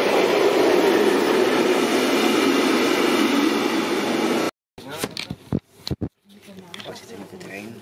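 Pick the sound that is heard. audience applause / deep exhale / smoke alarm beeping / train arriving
train arriving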